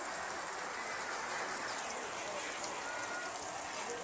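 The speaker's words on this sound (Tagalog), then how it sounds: "Ay naabot tayo ng ulan" Steady rain pours down, a dense, even hiss that keeps up throughout, heard while a wooden fishing boat is being painted gray near a shed; no one speaks over it.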